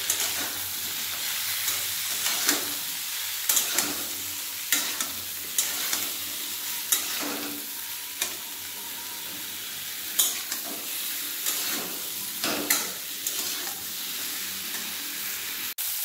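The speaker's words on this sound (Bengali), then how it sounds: "বেগুন দেওয়ার পর আমি ভালো করে বেগুনটাও ভেজে নেব।" Cut eggplant (brinjal) fries in a pan for a vegetarian vegetable dish, a steady close hiss and sizzle broken by repeated scraping stirs of a spatula at uneven intervals, with no talking.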